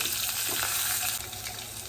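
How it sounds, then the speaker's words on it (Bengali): Small potatoes fry in hot oil in a pan, a loud, dense, continuous sizzle heard up close for a couple of seconds, with no voices. "আলুগুলো একটু নাড়াচাড়া করে ভাজা করে নেব"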